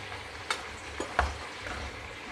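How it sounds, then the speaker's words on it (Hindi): Two large sliced tomatoes dropped into a pan of frying chicken for pulao, producing a continuous moderate sizzle with a few soft clatters and stirring bumps, no voices present. "चिकन के फ्राई होने के बाद इसमें हम डाल देंगे 2 बड़े साइज़ के टमाटर"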